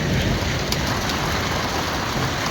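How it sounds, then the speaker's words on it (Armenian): Rain starting to fall again, a dense, steady hiss of drops on surfaces, fairly loud and continuous, with no voices. "նորից անձրև է սկսվում"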